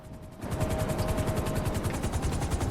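A helicopter arrives in the video game GTA Online, its rotor starting abruptly and then thumping in a fast, steady chop that stays close and prominent, with no talk over it.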